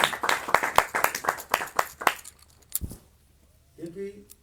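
An audience at a temple gathering in Brisbane claps for the temple builders in a quick, crisp burst of sharp claps that lasts about two seconds and then stops, leaving a short spoken voice afterward.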